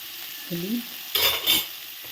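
Paneer fries in a pan with salt and turmeric for a paneer dish. A faint, low sizzle continues under two louder stirring scrapes close together, with a short tonal sound just before them.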